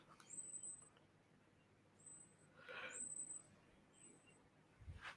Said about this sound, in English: There's a little bird outside and it's got the highest pitched squeak I've ever heard in my entire life.